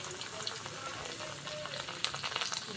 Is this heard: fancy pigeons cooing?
no